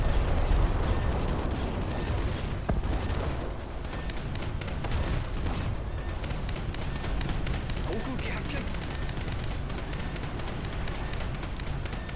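Naval guns fire in War Thunder during a ship battle, with dense, continuous booming and rattling gunfire throughout and a player talking over it.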